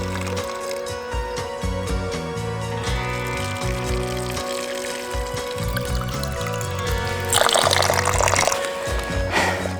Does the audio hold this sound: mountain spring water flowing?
yes